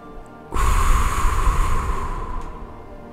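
Deep breath taken during a French-language guided meditation: one long, steady breath starts abruptly and holds close and clear for nearly three seconds, with no talking over it.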